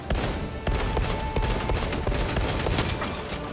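Sustained automatic gunfire in Warhammer 40000: Space Marine 2 on a tomb world, a loud, close, rapid stream of shots cracking steadily with no talk over it.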